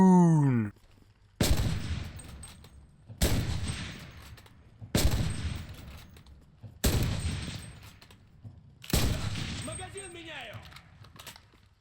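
Dragoon rifle fire in a video game: five loud, sharp shots spaced evenly about every two seconds, each one booming and then decaying into a ringing echo before the next.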